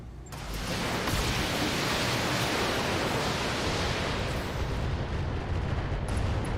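A BattleTech mech fires a salvo of Artemis-guided missiles, a sustained, dense roaring rush that holds loud and steady for several seconds before tapering off, heard alone without talk.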